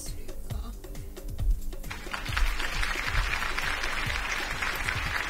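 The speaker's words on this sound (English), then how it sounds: "Mild applause for the joke." A studio audience gives mild applause after a joke: a light patter of clapping builds and holds steady, with a voice faintly under the start.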